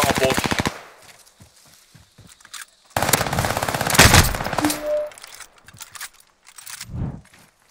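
Rapid automatic gunfire from a bot in a video game, loud dense bursts at the start and again midway, separated by quieter scattered shots and faint movement.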